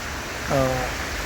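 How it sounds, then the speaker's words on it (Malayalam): Steady, even hiss of rain fills the whole clip, with a brief voice sound rising over it midway. "ഈ മഴയും നമ്മൾ ആസ്വദിക്കും"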